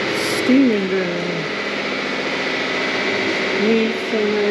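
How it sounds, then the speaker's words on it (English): A steam engine runs in a whaling station boiler house in Albany, Western Australia, a steady mechanical hum with rising and falling whistling tones over a low drone. "Steam engine."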